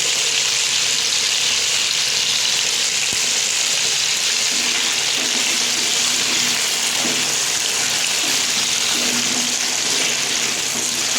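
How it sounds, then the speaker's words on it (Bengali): Potatoes frying in hot salted oil in a covered pan, a loud continuous sizzle with crackling and bubbling that holds steady throughout, no talking. "একটু নুন দিয়ে ঢাকা দিয়ে কিন্তু ভেজে নেব আলুটাকে"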